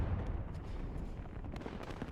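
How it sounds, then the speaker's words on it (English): Rocket artillery impacts in the WARNO real-time strategy game form a dense, continuous rumble of overlapping blasts and low booms. Faint sharper cracks stand out now and then, with no talk over them. "gets hit by the rocket artillery now from Blue"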